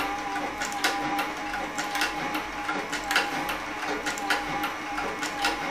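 A saddle and harness sewing machine with compound walking feed stitches steadily at a slightly faster pace with nylon thread, a close, continuous mechanical clatter with regular rhythmic pulses and no talk.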